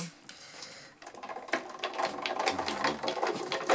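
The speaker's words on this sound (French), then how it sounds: "Je prends ma machine de découpe." A die-cutting machine for paper crafts runs close by, giving a rapid mechanical whirring and clattering that builds after a brief quiet pause, with faint low thumps near the end.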